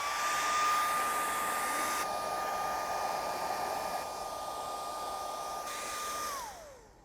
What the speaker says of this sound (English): So this is our heat gun.